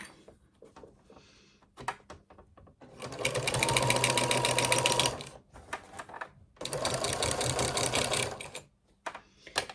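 A sewing machine runs on a small stitch while sewing a zipped project bag, in two long steady whirring bursts separated by short pauses with small clicks and handling noises, heard up close.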